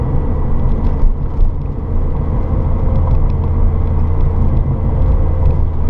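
A truck drives along a road, its engine and tyres giving a steady, close, low rumble that continues without a break for the whole stretch, with no talking.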